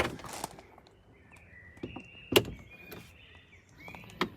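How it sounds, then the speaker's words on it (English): A soft-closing door on a BMW iX M Sport draws shut, giving a few muted clunks and a brief mechanical hum in a quiet cabin, with no voices. "soft closing doors, front and back."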